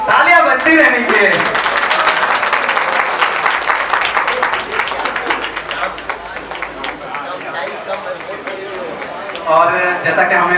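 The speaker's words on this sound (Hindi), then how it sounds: "तालियां बजती रहनी चाहिए।" An audience claps at a public gathering where the Koli community presents a petition to MP Manoj Tiwari. Dense, sustained applause rolls on for several seconds, with voices mixed in.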